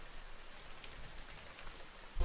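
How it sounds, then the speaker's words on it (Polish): Steady soft patter of rain in the survival video game The Forest, a continuous hiss of falling drops without talk, ending in a sudden loud thump. "to jest... deszcz!"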